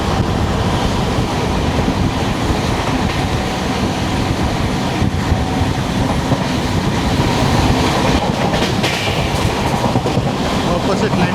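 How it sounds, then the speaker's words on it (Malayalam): The Chennai Egmore–Mangalore Express runs past on the line near Kozhikode, a loud, steady rumble of coaches with clattering wheels and wind rush throughout. "ചെന്നൈ എഗ്മോർ മാംഗ്ലൂർ എക്സ്പ്രസ് വരാറായെന്ന് തോന്നുന്നു."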